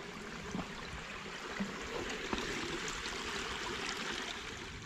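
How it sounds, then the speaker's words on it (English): A small woodland stream trickles and babbles steadily at low volume, a continuous soft wash of water with no voices, near rhododendron thickets on Hawk Mountain. "Actually got a stream."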